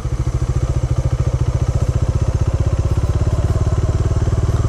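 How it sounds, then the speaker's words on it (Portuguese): A Bajaj Dominar 400 motorcycle engine cranks and sputters without catching, a steady loud rapid chugging pulse running throughout, close by, with no voices. "Vai ser difícil fazer essa moto pegar."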